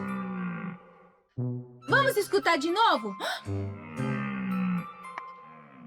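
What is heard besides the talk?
deer call, animal sound game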